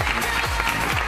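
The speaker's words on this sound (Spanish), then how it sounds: "Un aplauso" A television variety show audience breaks into brief, dense applause as a guest makes his entrance, a loud, continuous wash of clapping filling the whole moment.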